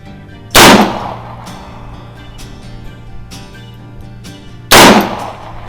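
A Smith & Wesson Model 1905 .38 Special revolver, a 1908 revision-two example, fires double action: two loud, sharp outdoor shots about four seconds apart, each with a short echoing decay, and no talking between them.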